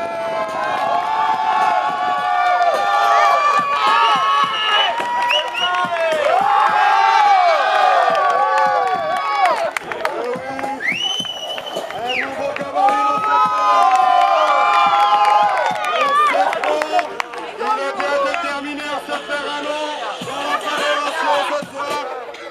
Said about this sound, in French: On peut applaudir le 19 Gonzalez.